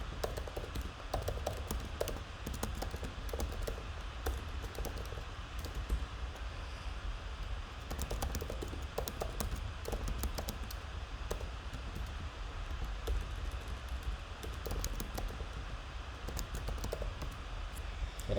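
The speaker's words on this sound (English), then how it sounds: "I'm going to type a scene here and say this is a scene action text" Someone types on a computer keyboard at a Windows computer, producing faint, irregular bursts of light clicks and taps over a soft, steady background hiss.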